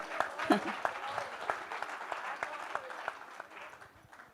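Concert audience applauding at an Ektara performance with a singer, a steady spread of hand claps at moderate level throughout, with a few sharper individual claps standing out.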